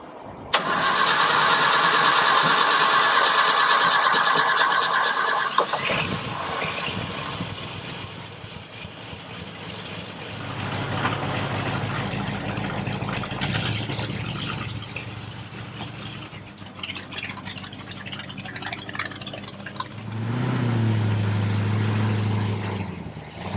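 A 1966 classic car engine cranks with a steady starter whir, catches and fires up, then settles into a rough, uneven idle with a deeper rumble near the end, close and loud.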